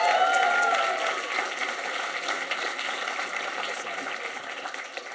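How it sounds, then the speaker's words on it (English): Audience applause at a climate community event in Dublin, a moderate room clapping that is strongest at the start and then continues more thinly, with some faint voices and background noise mixed in. "Another round of applause for Laura."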